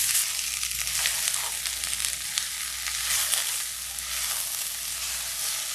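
A pot of food seasoned with salt and black pepper sizzles steadily on the stove while being stirred, a dense bright hiss with faint scraping, continuous and fairly close.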